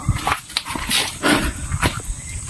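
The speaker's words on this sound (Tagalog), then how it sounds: "Dalawang aso." Dogs barking in quick, loud bursts close by, with some whimpering yips mixed between the barks.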